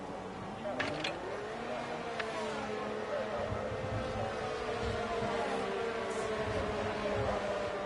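Racing cars in F1 23 at Spa sweep past in a steady engine drone with rising and falling pitch, a continuous moderate roar with faint talk underneath.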